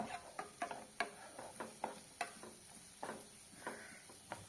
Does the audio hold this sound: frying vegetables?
yes